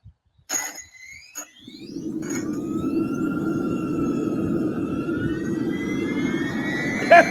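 Aircraft jet engines spinning up from a standstill on the ground: a few sharp clicks, then a rising whine and a swelling roar that settles into a steady, loud, close rush.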